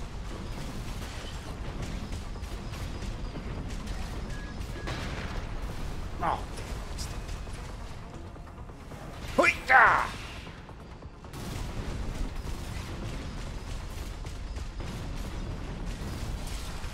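A mech's heavy cannon firing in the video game Armored Core VI, a couple of loud booming shots mid-clip over a constant mechanical game rumble, with a voice talking throughout.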